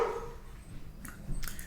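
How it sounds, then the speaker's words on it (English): Dogs bark and yip a couple of times in the background, short sharp calls at moderate distance in a quiet room. "sorry about the dogs"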